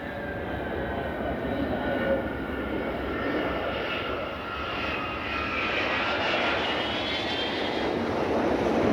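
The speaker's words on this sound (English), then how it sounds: "this Vulcan is the only one left flying after the Vulcan squadrons were disbanded in 1984" An Avro Vulcan bomber flies past at a 1990 Battle of Britain anniversary air show, giving a sustained, loud, roaring jet rumble with a rising whine that swells steadily as the aircraft nears.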